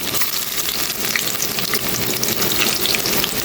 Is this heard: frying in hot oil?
yes